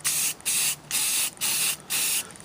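Spray coating is applied to an antique Hallicrafters R-46 speaker cabinet in five short hissing bursts, each about a third of a second long, loud and close with brief pauses between them.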